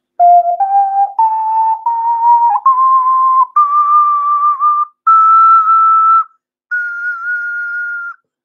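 A Chinese clay xun plays a slow rising scale of about eight pure, hollow tones with short breaths between them, close and clear and heard on its own.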